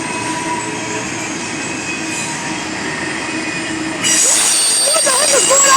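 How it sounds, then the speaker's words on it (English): Trains rolling through a busy rail area in Elkhart, Indiana, with steady wheel rumble and squeal for several seconds, then a louder, brighter burst as a horn and closer car noise join in near the end. "And here comes another one! I can hear another horn!"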